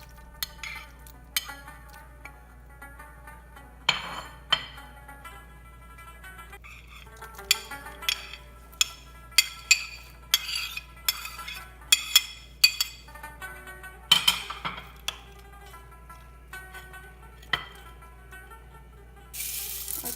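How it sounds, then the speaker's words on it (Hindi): A spoon clinks and scrapes against a bowl while chopped fruit is stirred into milk, producing scattered sharp metallic taps at close range over a quiet background. "अब बाउल में दूध डालें, फिर कटे हुए फ्रूट्स डालकर मिक्स करें।"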